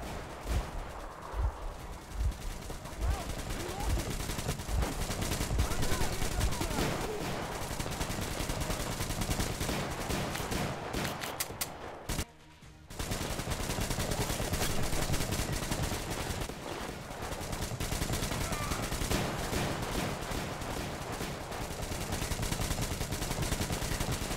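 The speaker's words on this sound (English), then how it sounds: "he's now shooting at me" Enemy gunfire aimed at the player in Metro Exodus, a dense, sustained crackle of shots that carries on nearly unbroken, with a short dropout midway before resuming just as loud.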